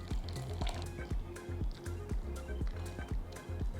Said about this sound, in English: Let's dilute this by adding just a little water.